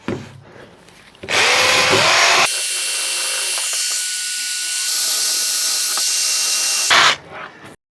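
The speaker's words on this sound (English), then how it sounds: "We will start by sanding with the drill and wire brushes" A power drill with a wire brush whirs loudly, grinding against metal on a Mini Cooper S R53 part, running steadily for several seconds before stopping, with quieter bumps before and after.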